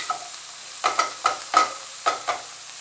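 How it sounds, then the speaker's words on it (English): Jalapeños and onions fry in a pan under a soft, steady sizzle. About half a dozen distinct scraping stirs come through clearly, spaced irregularly. "So those go into the pan with our onions that are smelling great already."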